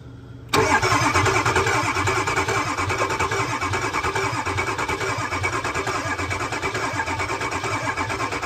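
A Ford 6.0 Powerstroke diesel engine with a weak cylinder cranks over slowly after an oil fill, a steady loud mechanical churn that starts abruptly and runs unbroken throughout, with no voices.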